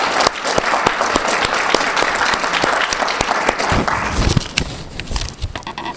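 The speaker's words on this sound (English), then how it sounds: "So let's give them a big round of applause." A room of audience members claps loudly and steadily for the guests of honor, University of Minnesota President Dr. Eric Kaler and Karen Kaler, with dense overlapping hand claps and a few sharper individual claps.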